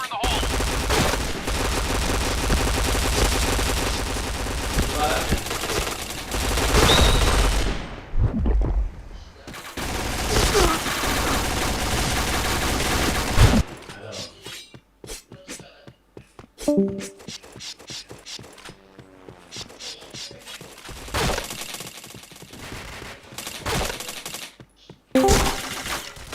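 Rapid gunfire from a shooting video game, dense automatic bursts at first, then breaking into scattered single shots and short volleys, loud and close.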